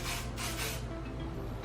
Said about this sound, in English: so then I'm just gonna go back and put a little bit of spray